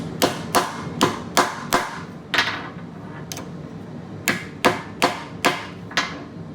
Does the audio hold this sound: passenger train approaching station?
no